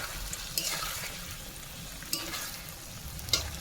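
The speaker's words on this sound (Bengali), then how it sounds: "চলো আমি এগুলো ঢেকে ঢেকে ভাজা করে নিই" Steady sizzling of food frying in a pan, with a few louder crackles and stirring noises; no talking.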